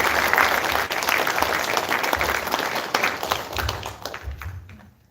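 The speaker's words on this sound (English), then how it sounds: "Let's give them a round of applause." A roomful of people applauds steadily for kids at a meeting, fairly close and dense, with a few low thumps, before the clapping tapers off and fades out at the end.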